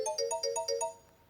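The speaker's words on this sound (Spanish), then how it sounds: "sonó raro el timbre" An odd-sounding cartoon doorbell plays a quick, bright melodic jingle of about six bouncing notes, then fades out.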